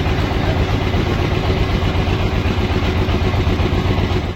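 A trawler boat's engine runs steadily, close and loud, with a constant low droning hum and rumble throughout and no voices.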